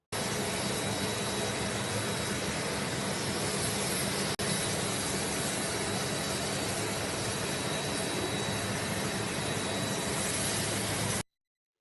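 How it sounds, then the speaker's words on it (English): A noisy airplane engine roars as a loud, steady broadband drone with a constant hiss, unbroken apart from a tiny click, then cuts off abruptly near the end, with no voices heard. "The plane is way too noisy and stuff."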